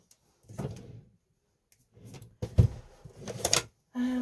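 A drawer is pulled open and rummaged while searching for paper scraps, giving several short, close scraping and knocking bursts separated by quiet pauses, ending with a brief steady tone.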